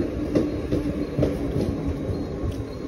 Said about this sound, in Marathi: ट्रेन पुढे चालली आहे बघ, माझ्याहून पुढे चालली आहे.